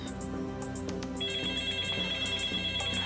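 A telephone rings with a repeating electronic trill, steady and fairly loud, with a second ringing tone joining partway through, no voices over it.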